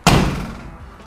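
A car door is swung shut and slams with a single loud, close, deep thud that rings briefly before fading.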